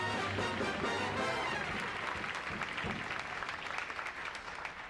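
An audience applauds in a steady, continuous wash of clapping that holds at an even level throughout, with no voices standing out.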